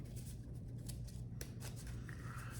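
Playing cards being shuffled close by, a quick series of soft riffling flutters and taps.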